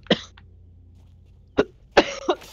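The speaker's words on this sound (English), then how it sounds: "why am I coughing?" Three or four short, harsh coughs from a nearby person, spaced irregularly, the last ones coming in a quick double burst.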